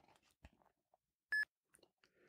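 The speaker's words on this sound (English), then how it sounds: "I heard a beep." A single short electronic beep sounds as the Yuka app scans a product barcode, clear and close amid quiet handling noises.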